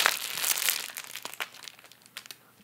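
A paper legend sheet from a diamond painting kit crinkles as it is handled, with close rustling at first that fades into sparse small crackles.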